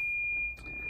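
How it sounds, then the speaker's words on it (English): A steady high-pitched warning tone from the dashboard of a 2008 Toyota Highlander Hybrid with an ABS brake booster actuator pump fault, sounding as one continuous beep under a low background hum. "there's that annoying beeping noise, and all the lights are lit up on the dash"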